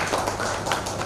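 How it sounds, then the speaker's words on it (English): Continuous clapping from an audience at a panel discussion on IT services and product companies, steady and fairly loud for about a second. "Please have a round of applause to sir."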